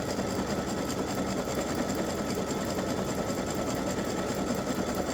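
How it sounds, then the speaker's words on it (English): A sewing machine satin stitching the edge of a Christmas bow appliqué directly onto a T-shirt, running in a steady, continuous dense whir throughout with no pauses or talk. "we're just about finished with the satin stitching around the edge"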